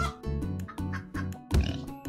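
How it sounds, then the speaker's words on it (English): Pigs oink repeatedly in the video game Turnip Boy Commits Tax Evasion, a quick series of grunting calls over looping game music, fairly close and loud, with no talking. "I hear a ton of oinks on the other side of the door."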